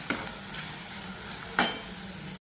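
Onions frying in a pan for a soya chunk bhurji, with a soft steady sizzle broken by two brief stirring scrapes, close and quiet.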